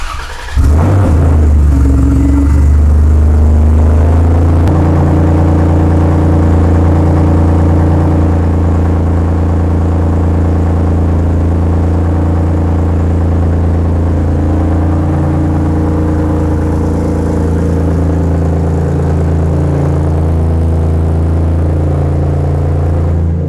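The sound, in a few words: Toyota Tacoma with turbo kit revving without exhaust pipe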